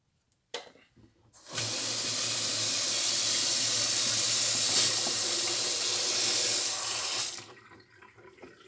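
Water gushes from a washing machine tap in a steady loud stream for about six seconds after a few small clicks, then shuts off, with no talking.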